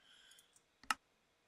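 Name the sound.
computer mouse clicks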